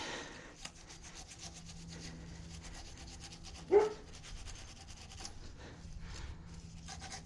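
Rubbing and scrubbing at surface rust on Harley-Davidson mini footboard pegs for a 2008 Sportster 883C, a steady close scraping texture with one brief sharper scrape midway.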